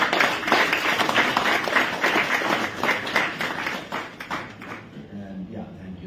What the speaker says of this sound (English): a round of applause for our Dominic